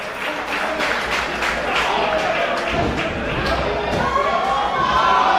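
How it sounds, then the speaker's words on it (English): A wrestling crowd at an EVOLVE independent show keeps up a steady roar of cheering and chanting for a wrestler caught in a crossface, with rhythmic claps and a commentator talking over it. "the crowd getting behind Richards here"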